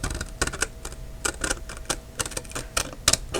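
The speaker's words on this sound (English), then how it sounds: "I'm going to take my scissors, okay, and trim along that line" Scissors trim a sheet of craft paper along a drawn line, making a quick series of crisp, close snipping clicks at an uneven rhythm, a dozen or so short cuts.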